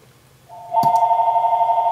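A telephone ring begins as a steady electronic tone, swelling louder after a short click and continuing evenly to the end, close by with no talking.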